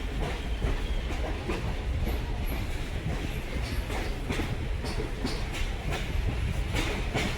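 A passenger excursion train runs on the Blue Ridge line near Asheville, North Carolina, heard from aboard: a steady rumbling roll with rhythmic clickety-clack of wheels over rail joints and a faint hiss, continuous throughout.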